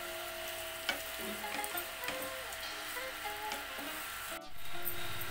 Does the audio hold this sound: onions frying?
yes